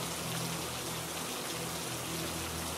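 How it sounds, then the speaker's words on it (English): Dense, steady roar of heavy rain pouring down, constant and enveloping with no pauses or voices. "the rain changes from a steady drizzle to a warm downpour."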